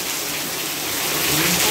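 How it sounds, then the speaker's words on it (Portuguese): Heavy rain pours down steadily at a country property, a dense, continuous hiss and rush of falling water close by, growing slightly stronger toward the end with no talking. "Olha lá, gente, é chuva forte"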